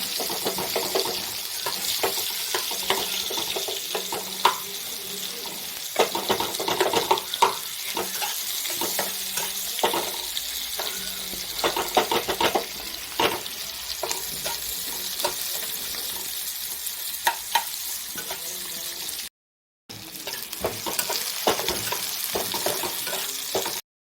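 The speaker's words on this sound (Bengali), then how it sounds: "এটাকে বেরেস্তার মতো করে ভাজবো, একদম পুরো ব্রাউন কালারের কালার করে" Chopped onions frying in oil until brown for Bengali chingri jhal, a continuous close sizzle with frequent clicks and scrapes of stirring, cutting out briefly near the end.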